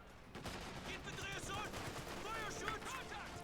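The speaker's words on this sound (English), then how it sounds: "Incendiary rounds coming in from the MG." A machine gun fires incendiary rounds in a World War II strategy game. Rapid bursts of gunfire repeat at a moderate distance over a steady battlefield din, mixed with whistling, pinging tones.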